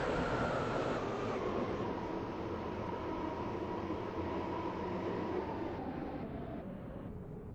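A Roblox video game train arriving at a station rumbles steadily with broadband rail noise, loud and close, gradually easing and fading toward the end as it slows.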